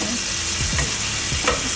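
Garlic sizzling in a hot pan for Thai curry basil fried rice, a loud, close, continuous hiss with brief stirring scrapes, no voices.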